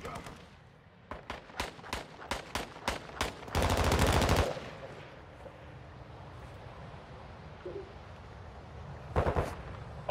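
Rapid shotgun blasts from a sniper shotgun in the Call of Duty DMZ video game, about a dozen sharp loud reports in quick succession followed by a dense burst of fire, then quieter ambience and two more shots near the end.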